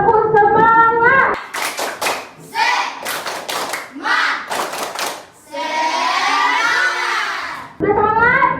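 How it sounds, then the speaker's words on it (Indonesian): Children in an elementary school classroom clap out a rhythmic cheer in short patterned bursts of sharp hand claps, with chanted voices between groups of claps and a teacher's voice speaking at the start and end. "Tepuk semangat."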